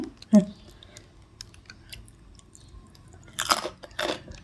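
Crunchy sour green mango being bitten and chewed up close: a sharp crunchy bite near the start, quiet soft chewing, then a burst of loud crisp crunches near the end.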